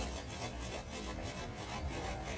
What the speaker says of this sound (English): All we're doing here is just sort of rubbing just rubbing.